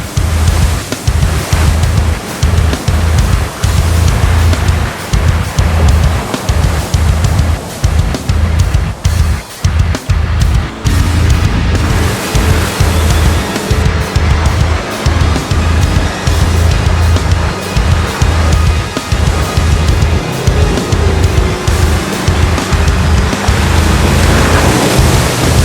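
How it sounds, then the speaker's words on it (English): BFGoodrich KM3 mud terrain tyres rolling on the road, a loud continuous low rumbling drone with rushing wind-like noise throughout, heard from inside the vehicle. "The mud terrain tyres are going to have a bit of road noise."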